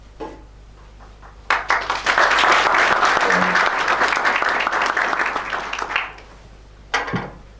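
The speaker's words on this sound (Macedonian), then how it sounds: "Најпрво со уште еден голем аплауз сакам да го поздравам мојот колега Симон" An audience applauds at a business services presentation in Ohrid. The clapping starts abruptly, holds loud and steady for about four seconds, then fades, and a short second burst follows.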